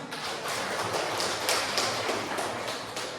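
A classroom of students claps together in a dense, continuous burst of hand claps that holds steady and fairly loud throughout, with no talking.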